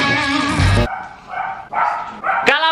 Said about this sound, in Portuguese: Cala a boca, cachorro!